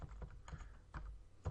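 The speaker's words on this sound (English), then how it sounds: "you can use the upward arrow key on your keyboard" Keys on a computer keyboard, including an arrow key, are tapped in a quiet room, several soft, separate clicks spaced irregularly and heard up close.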